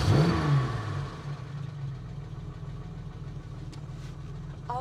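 A Jaguar E-Type Series 1 with a pre-engaged starter fires up and settles into a steady, low, throbbing idle, heard close and alone for several seconds, ending with a faint high squeak.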